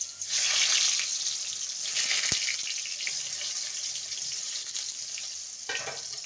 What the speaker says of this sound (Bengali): পটলগুলোকে ভেজে নেব